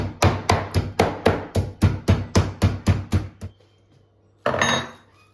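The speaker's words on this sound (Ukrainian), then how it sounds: "і гарненько відбиваємо молоточком" A meat mallet pounds chicken covered with plastic film about a dozen times in a quick, even rhythm on a board, then a pause before one last burst.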